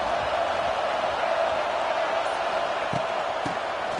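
A packed stadium crowd at a Florida versus Michigan football game gives off a steady, dense roar of cheering that holds level for the whole stretch, with a few dull thumps underneath.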